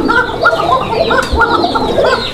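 A pair of caged pigeons, male and female, give repeated rhythmic cooing calls close by, several throaty phrases in steady succession with a faint low thump partway through.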